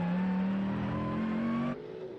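A Mercedes-AMG GT3 race car's 6.2-litre naturally aspirated engine revs hard and steady, its tone climbing briefly before the roar cuts off sharply near the end.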